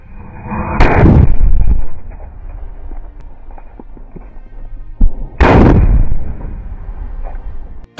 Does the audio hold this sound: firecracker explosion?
yes